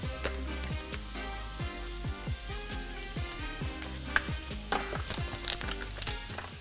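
Seasoned shrimp for tacos, dusted with Lawry's and black pepper, frying in a pan with a steady close sizzle and crackle, bright spitting pops scattered throughout and no talking.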